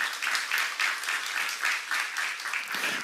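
A church seminar congregation claps in waves, a full room of hands producing pulsing bursts of applause that swell and dip in a loose rhythm without pause.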